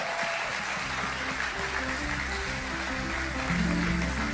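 Church congregation applauding to acclaim the Lord, a steady wash of clapping that runs throughout with a sung or held musical tone underneath.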